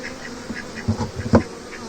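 Honey bees buzzing at an opened beehive on a farm, a steady close hum of many insects with a few louder passes near the listener.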